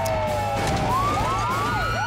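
A loud wailing police siren in the video game BeamNG Drive sweeps up and down in rapid cycles, like a police car close by, with a steady engine drone underneath.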